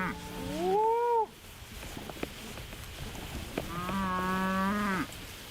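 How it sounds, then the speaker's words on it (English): Cattle in a grazing herd of about 390 head on an intensively grazed pasture moo twice, each call a long, loud, drawn-out low bellow with a pause between, over steady outdoor background noise. "look at these cattle. They're doing all the work."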